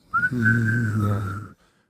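Humming while whistling at once to mimic a UFO: a single steady, warbling whistle tone layered over a low hummed drone, close and clear, lasting about a second and a half before stopping abruptly.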